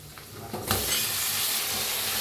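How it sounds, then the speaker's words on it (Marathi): Eggplant pieces tipped into hot oil with turmeric, a quick soft clatter followed by a sudden burst of loud, steady sizzling that fills the rest of the moment, close up and without voices. "थोडीशी हळद त्याला हलवून घेऊया हळदीला बी धुवून घेतलेली वांगे टाकून घ्यायचे"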